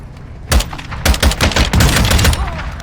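Gunfire in the Warzone 2.0 game: a single loud shot, then a burst of sharp, rapid shots in quick succession, close and punchy, with faint background ambience.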